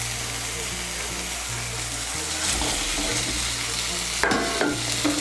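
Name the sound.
stirring fried potatoes into frying masala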